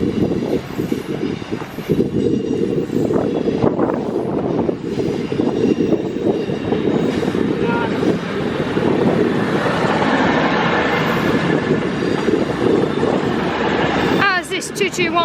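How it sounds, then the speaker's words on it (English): A Class 221 Voyager diesel train at Crewe station, a steady loud rumble and engine drone across the whole stretch, with brief higher squeals near the end and no clear talk. "As behind me is a 221 Voyager."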